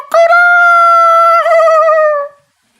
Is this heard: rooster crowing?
yes